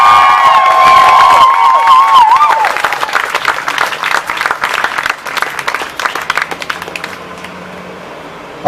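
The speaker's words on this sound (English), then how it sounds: "Let's hear it for Greg." A crowd at an outdoor protest press conference applauds and cheers loudly and close, with whistles and shouts early on, then the clapping thins and fades out.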